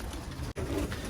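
Birmingham Roller pigeons cooing nearby in a loft, a brief run of soft low coos with a momentary pause in the middle.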